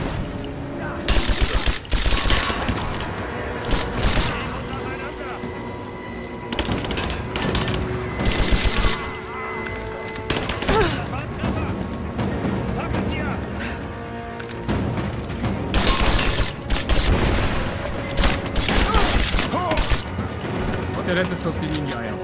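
Dense bursts of gunfire in the Rise of the Tomb Raider video game, rapid automatic volleys and loud single shots with crashes and booms, recurring in loud clusters with short lulls between.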